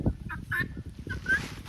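Turkey toms gobbling in a backyard flock, several bursts of rattling calls close by, with fowl clucking and shuffling underneath.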